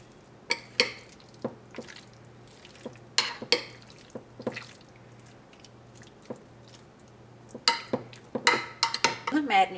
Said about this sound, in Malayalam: ഇതെല്ലാം കൂടിയിട്ട് നമുക്കൊന്ന് നന്നായിട്ടൊന്ന് മിക്സ് ചെയ്യാം.